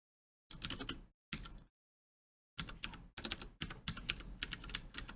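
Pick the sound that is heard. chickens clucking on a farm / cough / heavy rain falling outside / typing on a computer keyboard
typing on a computer keyboard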